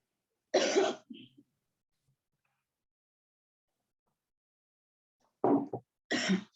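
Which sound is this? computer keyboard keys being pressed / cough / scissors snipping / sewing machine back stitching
cough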